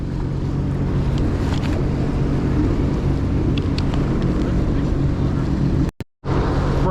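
A jet ski engine drones on open water near a seal, a loud continuous rumble mixed with wind buffeting the microphone, briefly cutting out near the end before resuming.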